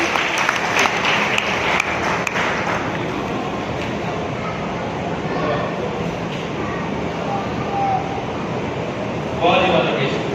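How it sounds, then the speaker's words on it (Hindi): Audience applause for a guru at an indoor celebration speech event, a thick, continuous wash of clapping across the whole stretch, with a brief voice rising near the end. "आदरणीय गुरु जी के लिए जोरदार तालियां।"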